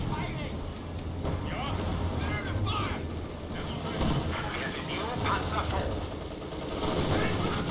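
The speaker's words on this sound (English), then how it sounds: "I'm mortaring the howitzer." Mortar fire aimed at a howitzer during a Company of Heroes 2 match, heard as dense, continuous battle noise with repeated booming impacts and gunfire layered over a constant low rumble.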